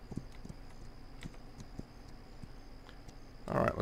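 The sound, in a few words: horse hooves, from a video game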